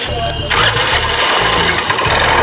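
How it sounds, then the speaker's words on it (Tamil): A faulty, seizing engine runs loud and harsh with a rough mechanical clatter, jumping sharply in intensity about halfway through and then holding a steady, grinding roar close by. "இது வந்து இன்ஜின் நாய்ஸு."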